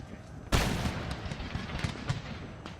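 Musket volleys and artillery fire in the video game Empire Total War: one sharp loud blast followed by scattered crackling shots and thuds in a busy battlefield mix.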